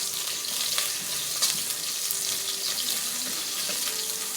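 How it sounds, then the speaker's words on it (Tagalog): Onion sizzling in a hot pan for chicken kabsa, a steady hissing fry with faint clinks and stirring taps, close and continuous with no speech. "magigisa tayo ng onion. I-pa-brown natin ng konti para mabango"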